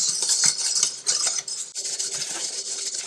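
Metal spoon stirring salt into a roux for Swiss and Gruyere mac and cheese, with steady close scraping and clinking against the pot and a brief pause midway.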